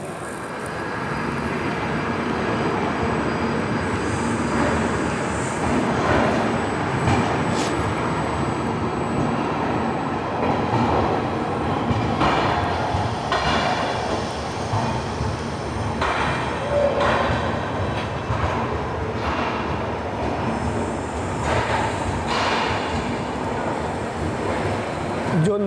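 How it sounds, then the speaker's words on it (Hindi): The Sachkhand Superfast Express pulls out of Amritsar with a steady rumble and rush of wheels and air, heard from on board, with occasional clatter and faint tones over the continuous noise. "बिल्कुल अपने निर्धारित समय 5:30 पर हमारी सचखंड सुपरफास्ट एक्सप्रेस रवाना हो चुकी है अमृतसर से।"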